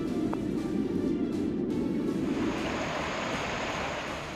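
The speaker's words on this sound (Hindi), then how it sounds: "अचानक से नालों में इतना पानी आ गया कि धाराओं ने विकराल रूप धारण कर लिया" Floodwater rushes through swollen drains after heavy rain in Uttarakhand, a loud, continuous roaring wash of water with no voices.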